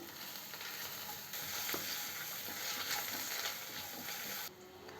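Crushed garlic with fenugreek seeds and curry leaves fries in hot oil, giving a steady close sizzle that swells in the middle and drops off near the end, with a few faint utensil scrapes.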